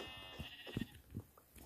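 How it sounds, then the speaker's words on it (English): A Minecraft sheep bleats a few times in quick succession, faint and close, with no talking over it. "Another sheep."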